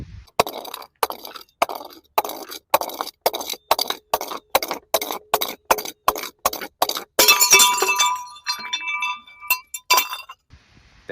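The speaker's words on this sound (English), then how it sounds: "bottle smashing" Glass bottles being smashed, a rhythmic run of about twenty sharp, loud shattering impacts with short silent gaps, followed by a longer jangling crash of falling shards and a few final hits.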